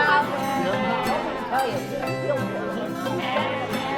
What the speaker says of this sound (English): This is Ginger, a Jacob sheep, and she won a ribbon for her fleece.